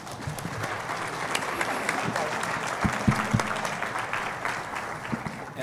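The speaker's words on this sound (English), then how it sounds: "give them one more round of applause," A conference audience at the 2021 GAAR / SWMLS annual meeting applauds a panel: continuous, thick clapping from many people, fairly close and even in loudness throughout.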